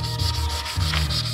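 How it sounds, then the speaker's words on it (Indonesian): Fine 600-grit sandpaper rubs over body filler on a car door, a steady close scratching stroke that pauses briefly near the middle, then resumes without any talking. "Ini selanjutnya diamplas kembali dengan menggunakan amplas yang halus dengan ukuran 600"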